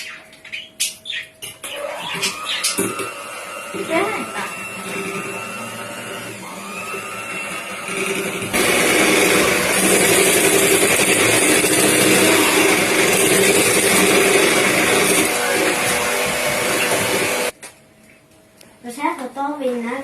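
An electric mixer roars loudly and continuously for about nine seconds as it whips custard cream with added butter, with voices talking before and after it runs.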